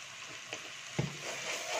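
Red chili powder being sautéed in a pan for red rice, a faint low sizzle with one soft stirring knock partway through, quiet and close.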